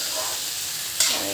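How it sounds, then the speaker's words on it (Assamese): Rice fries in ghee with a constant close hiss and sizzle, and a single stirring scrape lands near the end. "ঘিত প্ৰথমতে চাউলখিনি ভাজি ল'ব।"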